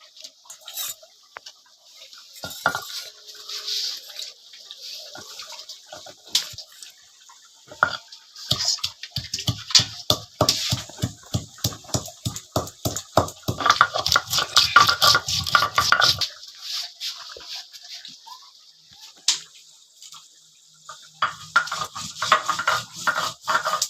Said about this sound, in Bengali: গরম মশলা বেটে নিচ্ছে এখানে নিয়েছে লং দারচিনি এলাচ এগুলো এখন বেটে নিবে